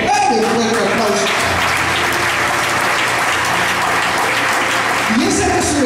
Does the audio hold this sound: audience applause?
yes